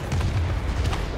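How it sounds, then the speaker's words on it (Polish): A single muffled, low boom from an explosion in the air-combat game World of Warplanes rolls out over steady background rumble, brief and mid-level. "No coś wybuchło."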